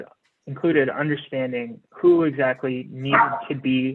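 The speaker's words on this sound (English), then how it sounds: "sorry about the dog" A dog barks in the background during an online community steering committee meeting, with short barks partly buried under a person speaking steadily.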